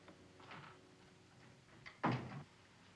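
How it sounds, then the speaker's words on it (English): A door shuts with a single firm thud after some faint shuffling and movement in a quiet room. "Shut the door, please."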